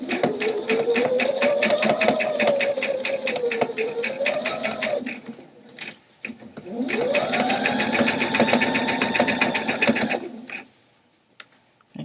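A sewing machine stitches denim for a jeans hip bag in two long rapid runs with a pause between them, the fast steady needle clatter rising and falling in speed, then stopping near the end.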